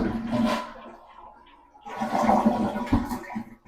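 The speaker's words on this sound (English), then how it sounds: "we can flush the toilet." A household toilet flushes with its water supply shut off, giving a short gurgling burst, a pause, then a longer rushing drain that fades out, heard close and alone.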